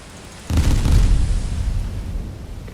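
A battleship's secondary guns fire in Steel Ocean, producing a sudden deep booming blast that rolls on into a long rumbling decay, loud and close with no voices.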